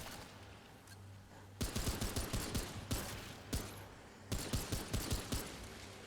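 Pistol gunfire in the video game Remnant: after a quiet stretch, a rapid string of sharp, loud shots rings out in two bursts, with steady background game ambience and no talking.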